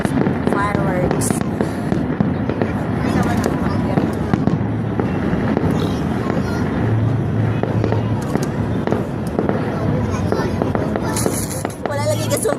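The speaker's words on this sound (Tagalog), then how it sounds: "Fireworks." A Sinulog fireworks display crackles and booms in a steady, dense barrage of explosions, with crowd chatter and a voice mixed in beneath.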